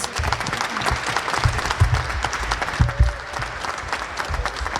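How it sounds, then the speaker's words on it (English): Crowd at a cybersecurity conference in Minneapolis applauds the event sponsors, a dense, continuous round of clapping from many hands that holds steady throughout, with no one talking over it. "how about a round of applause for the sponsors?"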